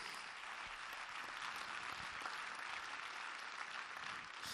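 Audience applause at an EPFL Alumni gala honouring Tissot representatives, a dense, steady wash of many hands clapping that holds evenly throughout without voices over it.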